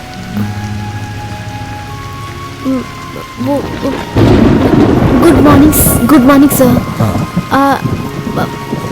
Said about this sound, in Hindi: वो बारिश बहुत तेज हो रही है